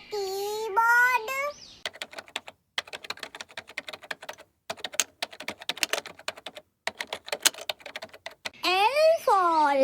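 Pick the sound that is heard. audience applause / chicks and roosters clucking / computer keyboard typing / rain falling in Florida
computer keyboard typing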